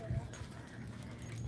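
A puppy gives a short, faint yelp right at the start, followed by quiet scuffling in the background. The whole moment passes in a second and a half.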